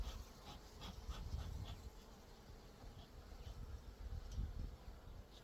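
Honey bees hum around a hive frame in a faint, continuous buzz, with individual bees swelling briefly nearer over a low droning swarm and no talking.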